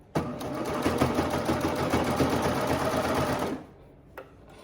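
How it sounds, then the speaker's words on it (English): A serger stitches along fabric edges with a steady, fast mechanical whir up close, running for about three and a half seconds before stopping, followed by a small click. "make sure that your fabric, your 3 raw edges are staying straight as they're going through your serger"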